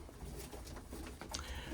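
Pigeons in a dim indoor loft with a snow-covered skylight give low, steady cooing, murmuring continuously at close range with a few faint higher chirps.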